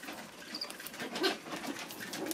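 Caged birds, likely pigeons or doves, give soft low coos with faint fluttering and scratching movement nearby, moderately quiet and without talk.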